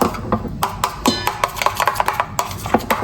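Paprika is mixed into a tuile batter in a bowl. A utensil knocks and scrapes against the bowl in quick, irregular taps. The sound is close and clear, with no talk.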